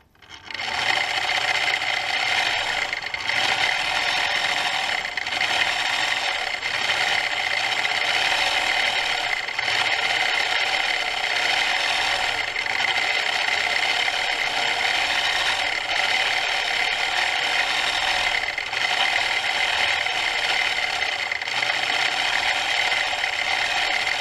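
A longarm quilting machine runs steadily as it stitches a pantograph pattern, a continuous dense mechanical whir with a rapid needle rhythm that holds unbroken throughout, close and fairly loud with no voices.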